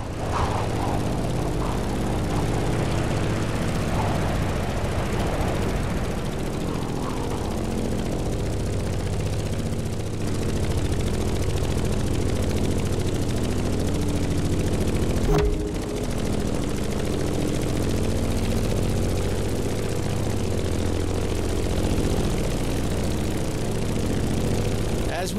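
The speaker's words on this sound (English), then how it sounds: "In the cockpit of a stunning GRUMMAN F8F BEARCAT, or simply the Bear." A Grumman F8F Bearcat propeller fighter engine in The Crew Motorfest drones steadily at a constant pitch, loud and close from the cockpit, with a brief click partway through.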